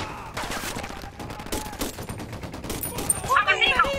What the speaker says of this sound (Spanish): Tienen ametralladoras pesadas.